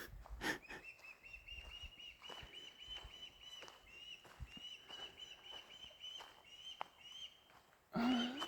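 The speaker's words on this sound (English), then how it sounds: "Sounds like a baby hawk or an eagle." A young hawk or eagle calls from near a nest outdoors, a thin high repeated cry over faint background, then a louder burst at the end.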